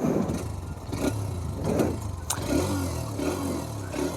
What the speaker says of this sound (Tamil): எக்ஸாஸ்ட் நோட் எப்படி இருக்குன்னு நீங்கள் கேளுங்க.